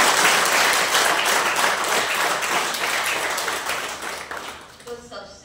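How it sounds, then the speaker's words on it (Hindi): Loud applause from a student audience in an Ayurvedic college lecture hall, thick clapping that is strongest at the start and gradually fades over about five seconds before stopping. "तो और जोर से एक बार ताली बजा दो।"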